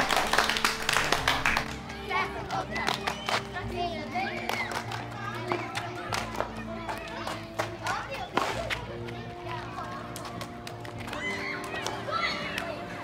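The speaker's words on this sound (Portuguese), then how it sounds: "Aplauso para Sandy." Scattered clapping for Sandy among a group of children, brief hand claps mixed with lively children's chatter and voices throughout.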